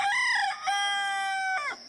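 A rooster crows once, close and loud, a long drawn-out cock-a-doodle-doo filling the moment.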